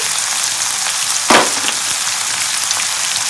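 Shrimp fry with onions in a hot pan, giving a loud continuous sizzle, with one sharp hissing burst as something drops in, and no talking.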